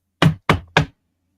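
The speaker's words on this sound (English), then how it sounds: "knock on her door, which is right next to my room" Three sharp knocks on a bedroom door, loud and close, evenly spaced in quick succession, then silence.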